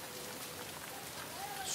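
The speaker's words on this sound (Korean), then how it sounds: "비도 주룩주룩 내리고 이런 추적추적 비가 내리면" Steady rain falls on a night street in Mexico, a dense, even hiss of drops on surfaces that continues without pause.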